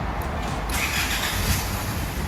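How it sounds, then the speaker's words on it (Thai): An Isuzu D-Max pickup's engine turns over and catches after a push-button start, then settles into a steady, moderately loud idle close by. "นี่เราสตาร์ทติดแล้วนะครับผม"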